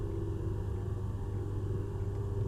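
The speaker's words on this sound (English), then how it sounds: "I love the spooling down noises" Steady low diesel rumble of a train engine in Train Sim Classic, the idle holding level and continuous after the train has stopped at a platform, with no voices over it.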